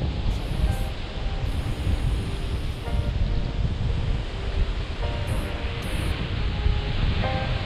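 Sea waves wash continuously along the coast at Prado in Bahia, a broad steady roar of surf mixed with gusty wind buffeting the microphone.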